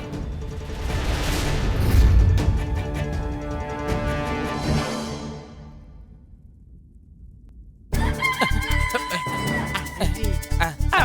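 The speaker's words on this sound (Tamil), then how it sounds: "கவனமா நாம அந்த கோழியை பிடிச்சாகணும்." A chicken clucks and squawks amid dramatic orchestral music in the first half, followed by a quiet stretch and then a burst of loud, rhythmic music with strikes. No clear voices.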